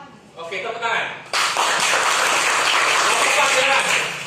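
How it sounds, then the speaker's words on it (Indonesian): A voice speaks briefly, then a room full of presentation attendees breaks into sustained, dense applause that holds steady and fades slightly at the end. "Oke, tepuk tangan."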